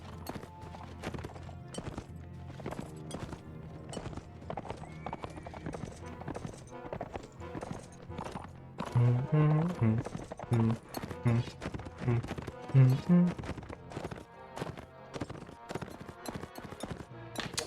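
Rapid hoofbeats clatter steadily as a horse gallops in Mount and Blade Warband, with occasional bursts of other game noise and brief talk mixed in.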